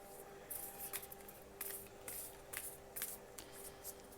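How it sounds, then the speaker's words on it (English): Playing cards being shuffled in soft, regular riffling bursts about every half second, faint and close over a low steady hum. "I want you guys to see me shuffling the cards as best I can"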